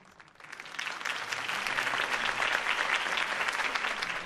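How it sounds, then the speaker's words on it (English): Applause from a big crowd at a political campaign speech in the video game Batman: The Telltale Series swells in after a quiet start and continues as steady, dense clapping. "could have heard that applause"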